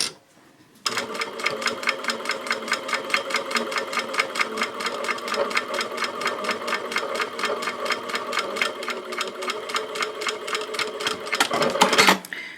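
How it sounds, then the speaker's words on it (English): A Juki DDL 8000A industrial sewing machine top-stitches fabric at a 2.5 stitch length, its needle hammering in a fast, even rhythm for about eleven seconds, close and clear, before stopping. "I'm sewing on a Juki DDL 8000A"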